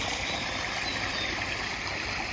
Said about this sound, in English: Waterfall's got some lovely white water building up there.